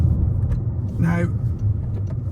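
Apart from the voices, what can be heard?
Toyota Corolla 1.8 Hybrid drivetrain drone while driving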